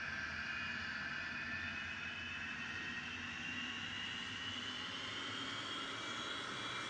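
A Hawker Hunter jet engine spools up in a flight simulator, a steady, continuous turbine whine and roar with a slowly rising tone, even and sustained throughout.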